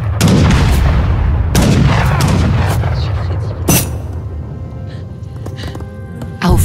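Cannon fire in the video game Fallen Colony: several loud, sharp booms land at irregular intervals, each with a short rumbling decay, over a busy background of game sound.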